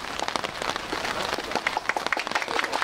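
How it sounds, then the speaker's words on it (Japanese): Applause from a crowd of children and adults at an outdoor play event in Fukuoka welcoming the city mayor, brisk dense clapping that rings steadily throughout, alone without talk. "拍手"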